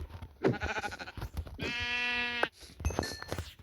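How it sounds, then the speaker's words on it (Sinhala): A sheep bleats in a video game, one drawn-out wavering cry following shorter game sounds, fairly close and mid-level, with clicks and other effects around it. "තව බැටළුවෙක් ඉන්නවා"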